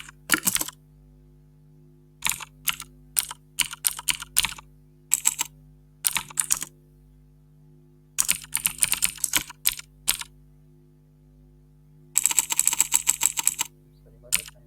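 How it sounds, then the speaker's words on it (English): Someone types code on a computer keyboard in crisp, close bursts of rapid keystrokes, each burst separated by short pauses, against a low steady electrical hum. "we can start by typing socket"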